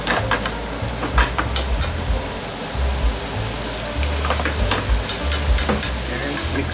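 Yakisoba noodles with oyster and shiitake stir-fry over a high flame, a loud, dense, continuous sizzle with crackling spits and the scrape and toss of stirring, close up and steady with no voice.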